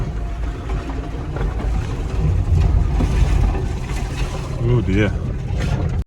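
Toyota Prius C hybrid driving over rough off-road ground, a steady rumbling road and engine noise throughout with knocks and bumps, while a person speaks briefly over it.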